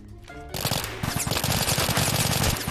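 A light machine gun fires in Roblox Oil Warfare Tycoon, starting in rapid bursts and then breaking into a loud, sustained stream of close, rattling shots.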